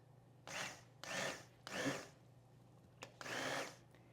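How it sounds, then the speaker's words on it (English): Immersion blender pulsing a pot of tomato-Dijon bisque into a coarse puree: four loud, close whirring bursts of about half a second each, separated by short pauses, with a faint click between the third and fourth bursts. "We're going to lightly pulse the contents of the pot until a coarse puree forms."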